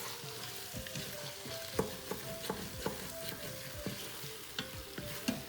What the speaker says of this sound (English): saute this chicken in this masala really well.